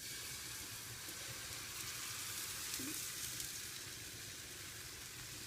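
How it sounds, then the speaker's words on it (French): Crêpe batter sizzles in a hot pan, a steady soft frying hiss that stays even and fairly quiet throughout, with no talking. "Et vous faites cuire donc vos crêpes durant 1 à 2 minutes de chaque côté"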